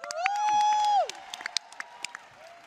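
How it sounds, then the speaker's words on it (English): At a women's caucus gathering during a political convention, a crowd cheers for a governor with a loud sustained whoop, then scattered claps and shouts trail off. "Another clap for the governor"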